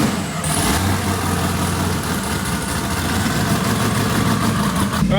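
A twin-turbo LS V8 runs at low RPM under slight load, a loud, steady, close rumble with a deep low hum that holds even throughout, with no talk over it.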